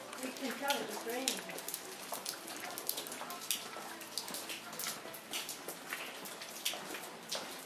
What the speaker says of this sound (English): We can tell it's raining.